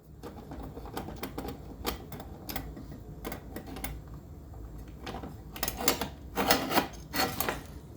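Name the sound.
removing screws with small screwdriver from speaker strobe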